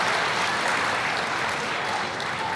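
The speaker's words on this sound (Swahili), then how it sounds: "naomba sote kwa pamoja kumpigie makofi kwa uongozi wake mzuri sana" A crowd applauds a football club leader, producing dense, continuous clapping that stays loud and even throughout with a slight fade near the end.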